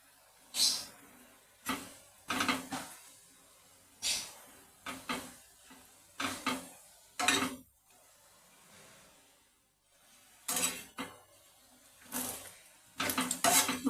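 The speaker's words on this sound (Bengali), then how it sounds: "গ্যাসটা মিডিয়াম ফ্লেমে করে বন্ধুরা আমি এই পিঠেগুলো সেঁকে নিচ্ছি" Bottle gourd pithas roasting in a pan over a medium gas flame, heard as a string of separate metallic clanks and scrapes with short sizzling bursts between quiet gaps, close and fairly clear.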